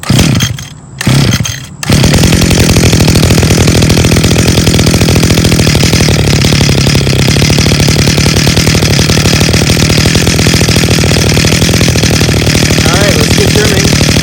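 An Echo SRM2400 string trimmer's small two-stroke engine sputters briefly, then revs up and runs loud and steady at high speed close by for the rest of the clip.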